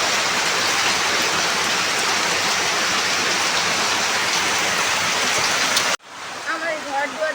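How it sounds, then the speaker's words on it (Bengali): Heavy morning rain pours down as a loud, dense, continuous roar close by for several seconds, then cuts off abruptly to quieter surroundings. "দেখেন কি পরিমাণে বৃষ্টি হচ্ছে সকাল সকাল।"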